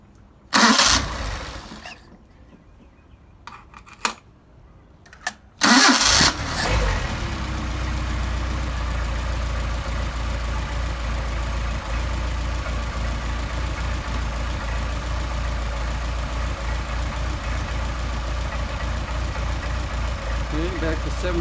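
A Mercedes 190SL with Solex carburetors is hot-started with a loud burst of cranking and catch, after earlier brief bursts, then settles into a steady, close idle around 700 RPM that continues alone to the end.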